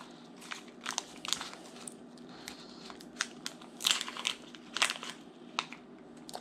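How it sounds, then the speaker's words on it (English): Foil or plastic snack package being torn open, with crinkling rustles and a few sharper ripping bursts near the microphone, no talking. "let's rip this open"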